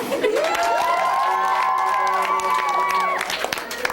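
An audience cheers and applauds for children in costumes at a youth show, with a loud, continuous crowd roar and whoops alongside a sustained tonal sound, and voices mixed in.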